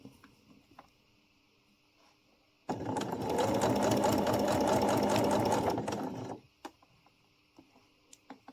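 A sewing machine runs a straight stitch through fabric for a pom-pom scrunchie in one steady, rapid mechanical burst of about four seconds, close and loud, set between quiet pauses and a few small clicks.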